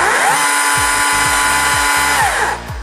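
A STIHL MSA 160 C or 200 C battery chainsaw runs with a loud, steady high electric whine, with a rhythmic low pulsing beneath it, then winds down near the end.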